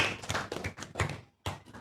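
Students in an Indonesian Islamic religious education classroom clap for a classmate in a short, rhythmic burst of patterned group claps, close and fairly quiet, with a brief pause before a final clap.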